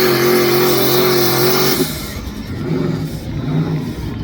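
Pulling tractor at a truck and tractor pull at the Fulton County Fair, its engine roaring loud and steady before cutting back to a lower rumble; a voice briefly speaks.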